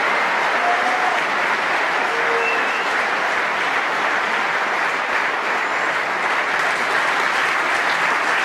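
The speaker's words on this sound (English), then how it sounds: "Lots of applause." An audience at the World Championship snooker applauds loudly and steadily, a dense, continuous wash of clapping that fills the hall from start to finish.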